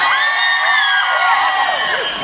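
A crowd at a live concert in Nagykáta cheers, whoops and whistles, a loud, dense and sustained roar with no break.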